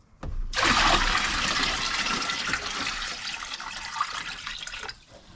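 Water pours steadily into a bucket or container being filled for a diesel heater exhaust heat recovery setup, a loud continuous rushing splash starting abruptly and tapering slightly before cutting off near the end.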